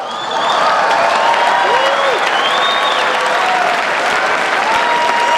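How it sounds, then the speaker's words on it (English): A large crowd at the White House Correspondents' Association Dinner breaks into sustained, loud applause that swells quickly and holds steady, with scattered cheers and whistles rising above the clapping. "Give them a round of applause."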